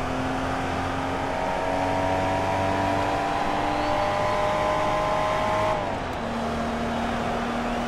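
A Porsche 914/6 flat-six engine in the Forza Motorsport 2 video game holds full throttle with a steady, loud, rising drone. Near the end the pitch drops sharply as the revs fall, then it settles at a lower hum.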